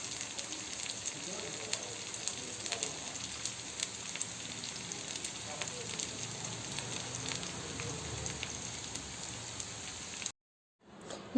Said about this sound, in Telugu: ఈ ఆనియన్స్ని మనం గోల్డెన్ బ్రౌన్ కలర్ వచ్చే వరకు ఫ్రై చేసుకుందాం.